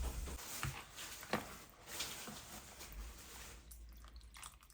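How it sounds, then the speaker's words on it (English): Leeks are swished in a bowl of water, giving faint, soft drips, splashes and patters at close range in a quiet kitchen, with light irregular water movement throughout. "Just put some of the leeks into this bowl of water to wash."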